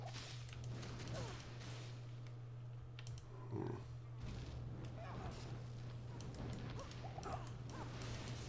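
A pet dog gives faint, scattered yips and whimpers in a quiet room, while computer-keyboard typing clicks on and off and a low electrical hum runs steadily underneath.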